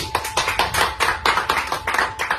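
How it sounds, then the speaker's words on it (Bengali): Students in a school gathering clap together in loud applause for a classmate, a dense quick run of hand claps lasting a couple of seconds with no talk. "শুভজিতের জন্য আবার জোরে তালি"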